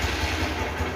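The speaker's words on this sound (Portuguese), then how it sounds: "Ó, a moto funcionou." A Honda Titan 150 motorcycle engine that had been failing to start runs at idle, with a steady, close, pulsing mid-low rumble and light mechanical clatter, with no voices.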